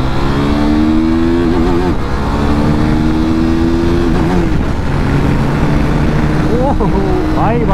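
Kawasaki RC 390 motorcycle accelerating on a night ride through city streets, engine rising in pitch through gear changes with steady loud road noise close by; a voice speaks over it.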